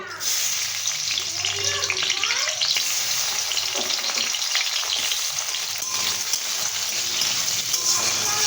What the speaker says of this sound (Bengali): একটু নেড়ে চেড়ে ভালো করে এটাকে 1-2 মিনিটের মতো ভেজে নেব।